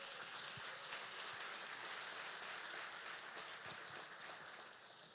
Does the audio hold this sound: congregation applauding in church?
yes